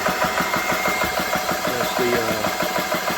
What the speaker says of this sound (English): one-way valve in there opening up